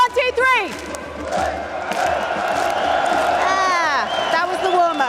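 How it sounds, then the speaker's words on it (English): Esports arena crowd at a CS:GO Major in Antwerp cheering loudly on cue, a swelling roar with whoops and shouts that rises, dips briefly, then builds again. "can you cheer like you're the sixth man for me if I ask you?"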